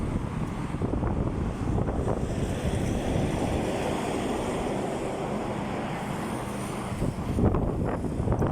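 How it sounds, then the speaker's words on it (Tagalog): Strong wind buffets the microphone in a loud, continuous roar with gusts rising and falling, mixed with a rushing, surf-like wash. "Lakas ng hangin pa rin."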